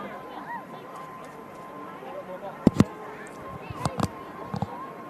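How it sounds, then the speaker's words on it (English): A handheld microphone knocks against a face at a plane-spotting session at Manchester Airport, giving a sharp double thump followed by a few smaller bumps over faint outdoor ambience and soft talk. "I just smacked myself in the face with the microphone."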